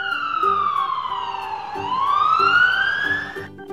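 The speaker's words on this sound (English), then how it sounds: "Black police car." A police car siren sweeps down and back up in a steady wail, with short low honks repeating underneath, close and loud.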